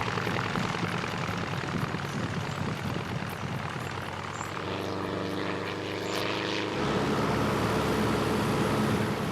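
A small propeller plane flying near remote islands drones loudly and steadily nearby, its engine tone holding constant and swelling slightly toward the end.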